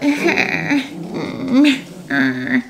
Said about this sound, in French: Non, commence pas à japper, Molly.